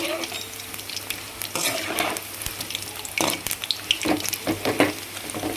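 Oil sizzles steadily while red banana stem pakoda pieces are stirred and turned in a pan, with scraping clatters and splashy bursts, close and fairly loud.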